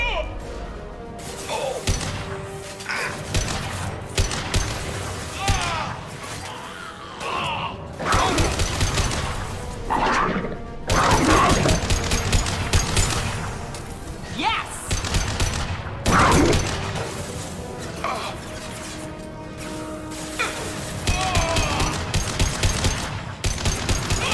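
In Mass Effect 2 combat, impact shot gunfire rattles in dense, loud bursts of cracking shots and heavy thuds, with mechanical clatter and intermittent character voices layered over the steady barrage.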